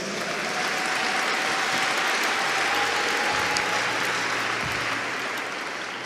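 Church congregation applauding in acclaim of the Lord, a sustained, even wash of many hands clapping throughout, heard somewhat distant and steady, with a low hum underneath.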